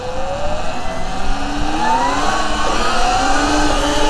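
A 12,000-watt 72-volt Sur Ron electric dirt bike accelerates hard, its rising motor whine sweeping upward steadily over continuous wind and road rush, loud and close.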